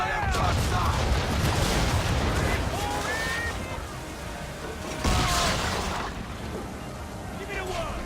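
Ship cannons firing during a naval battle in Assassin's Creed III, with several heavy booming blasts over a constant rush of sea, wind and creaking timber, while crew voices shout throughout.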